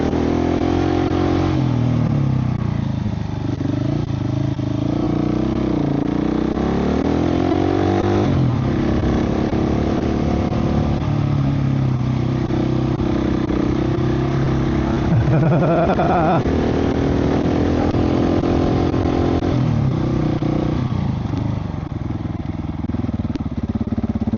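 A GasGas 700 SM motorcycle engine labors up steep, bumpy Hardknott Pass in first gear, a loud close droning growl rising and falling with throttle over wind buffeting, while a rider talks at times.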